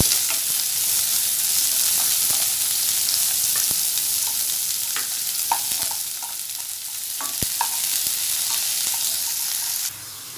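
Onion and curry leaves with dried red chillies sizzle steadily in a frying pan, a continuous close hiss broken by scattered crackles and spatula scrapes, ending with a slight drop in level.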